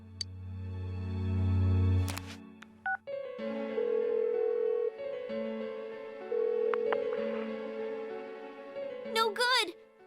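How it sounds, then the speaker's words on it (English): A phone call is dialed in Persona 4 Golden: a low tone first, then a rapid run of dial tones and a steady stepping ringback sequence, with a short synthetic chime near the end. "Give her another call."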